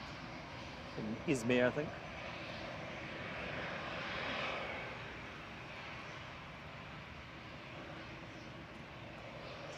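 An easyJet airliner touches down at Manchester Airport, its broad, steady jet roar filling the scene at moderate distance, with a brief exchange of talk near the start.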